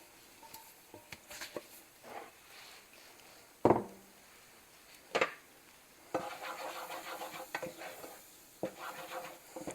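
About a quarter cup of flour is stirred and cooked in a pan for a peach pie: scattered scraping strokes at first, then denser, continuous stirring with a soft sizzle, close by and without talk.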